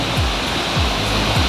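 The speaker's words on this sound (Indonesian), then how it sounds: "Deburan terjunan airnya udah sampai sini, guys." A roaring waterfall at Curug Lembah Pelangi in Bogor, West Java, heard as a dense, continuous rush of falling water with no voices over it, the spray still filling the air even though the falls are some distance away.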